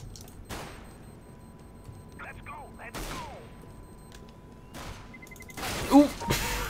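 Gunfire in CS:GO, with a few scattered sharp shots and a louder burst near the end over a low in-game background, as a voice briefly speaks.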